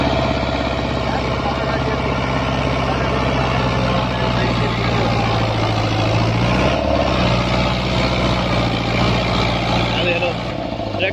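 A Dbang tractor in fourth gear drags a leveler blade across sandy ground, its engine a loud, close, steady drone that holds without a break for the whole stretch.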